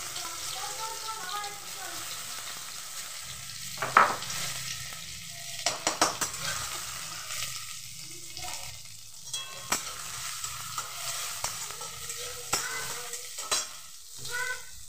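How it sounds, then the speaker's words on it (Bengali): Crushed green chilies fry in hot oil, giving a moderate crackling sizzle punctuated by spatula scrapes and knocks, with faint background voices. "এখানে তেল গরম হয়ে গেছে, এখানে কিছু কাঁচা লঙ্কা থেতো করে নিয়েছি, গ্যাসটা কমিয়ে দেবো, কাঁচা লঙ্কা থেতো দিয়ে দেবো"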